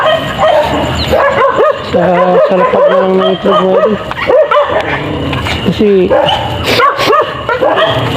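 Several dogs at a farmyard where native chicken eggs are gathered yap, bark and whimper on and off throughout, close and loud, mixed in with someone talking.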